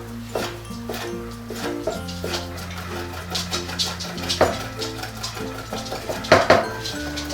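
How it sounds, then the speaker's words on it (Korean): A knife slices thinly on a cutting board while ingredients are prepared for Korean pyogo-jeon, giving a series of soft, irregular taps and thuds under steady background music, close and moderately quiet, with no talking. "먼저 다지려면 편을 썰어야 되겠죠. 그래서 얇게 채를 썰고"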